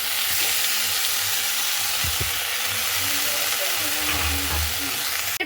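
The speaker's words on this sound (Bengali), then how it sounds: "হবে সেই লাউ পাতা ভাপানোগুলোকে।" Steamed bottle gourd leaves fry with shrimp in a hot pan, giving a loud, continuous sizzle close by, with occasional low knocks and stirring sounds throughout.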